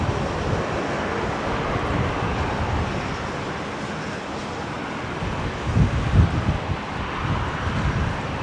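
Crosswind gusting up to 18 knots at Brisbane Airport buffets the microphone in a continuous low rumble, with a brief stronger gust near the end.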